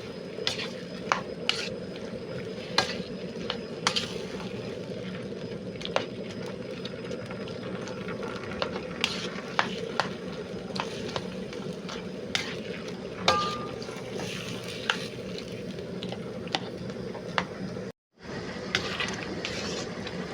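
Chopped tomatoes fry in a pan while a spoon stirs and presses them down, a steady low sizzle broken by frequent sharp taps and scrapes against the pan, close and alone, with one brief dropout.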